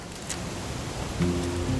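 Rain falling in the video game What Remains of Edith Finch: a soft, steady hiss of rainfall throughout, fairly quiet, with a faint low hum that grows slightly louder near the end and no talking.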